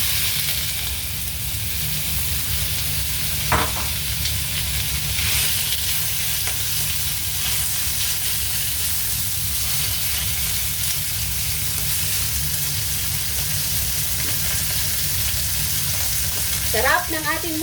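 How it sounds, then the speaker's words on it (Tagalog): Sautéed ingredients for ginisang monggo with ampalaya and chicharon frying in a pan, a steady loud sizzle held for a long stretch with occasional clinks and stirring scrapes. "So, ipiprito natin yung ating sahog"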